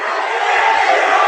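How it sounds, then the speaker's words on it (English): Crowd at a high school boys basketball game cheering after a three-pointer, a loud sustained roar of voices and shouts filling the gym. "It's got the crowd pumped up now."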